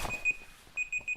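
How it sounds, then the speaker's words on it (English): A kitchen-style timer alarm beeps in short, evenly spaced electronic tones, one beep followed by three more in quick succession, close and alone. "Just like that timer that I hate."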